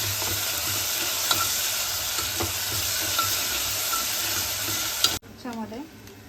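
Garlic-ginger paste being stirred into masoor pulav in a pan: a steady, close sizzle with scraping stirs, ending in a quieter stretch of light clinks and faint activity.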